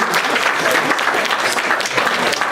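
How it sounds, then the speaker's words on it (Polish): Strong, continuous applause from a crowd at a Kraków Society Christmas wafer gathering in Chicago during an award announcement, close and full throughout. "Oklaski"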